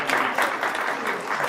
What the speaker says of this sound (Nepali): उहाँलाई तालीले स्वागत गरौँ।